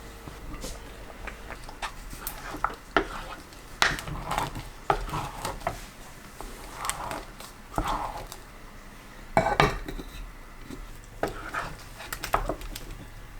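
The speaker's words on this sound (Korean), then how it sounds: "5분에 한 번씩 3번 정도 중간중간 저어줍니다" A thick sweet potato starch jelly mixture is stirred in a pot, producing irregular close knocks and scrapes of a utensil against the pot at uneven intervals, with no speech.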